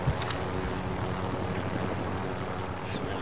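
Steady rotor and engine drone of a helicopter flying overhead in a multiplayer shooter game, a continuous loud, broadband roar holding level for several seconds with brief sharp gunfire-like transients near the start.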